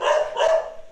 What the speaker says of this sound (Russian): Ого, такая агрессивная собака.